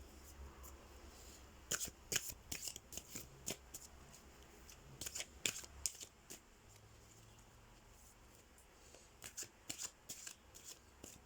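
A tarot and oracle card deck is shuffled close up at low volume, producing bursts of crisp riffling and slapping card sounds separated by short pauses.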